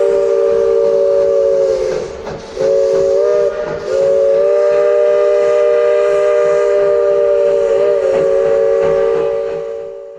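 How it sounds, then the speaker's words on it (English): A heritage train runs up the railway tracks to Silver Plume Station in Colorado. A loud, sustained steam whistle blares almost continuously over the rumble of the train, with brief breaks, then fades toward the end. "let's head on up these tracks and take the train up to Silver Plume Station"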